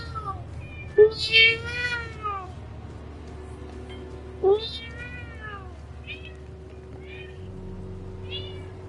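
A cat meows loudly, with a long drawn-out yowl followed by a second shorter cry and fainter mews after it, over a quiet low hum of background sound.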